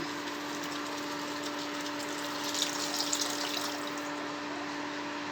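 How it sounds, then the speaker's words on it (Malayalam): Tamarind water poured into a simmering okra curry in a kitchen, a soft continuous gushing of liquid that stays faint and even, with a slight swell midway. "കുറച്ച് പുളിവെള്ളം ഒഴിച്ചു കൊടുക്കാം കേട്ടോ."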